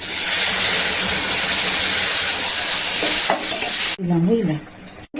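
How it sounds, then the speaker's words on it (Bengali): Cumin and chilli powder frying in a pan as hot water goes in, a loud steady sizzle that cuts off abruptly, followed by brief talk and a clank. "এবারে এই যে গরম জলটা দিয়ে দিচ্ছি"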